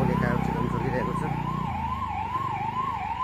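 Fire engine siren wailing steadily at a roadside vehicle fire in the early morning, its rising and falling tone loud and close over rumbling traffic and engine noise.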